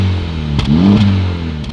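A Honda sports car's exhaust revs up close, a short throaty rise and fall of engine pitch with a couple of quick blips, loud and alone.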